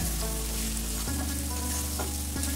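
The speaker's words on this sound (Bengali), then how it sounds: "হালকা ভাজা হয়ে গেলেই দিয়ে দিচ্ছি ডুমো করে কেটে রাখা 4টে মাঝারি সাইজের পেঁয়াজ" Four medium onions, diced, sizzle steadily in hot oil in a pan while chilli chicken is being cooked. The frying is close and continuous, with a low hum underneath and no voices.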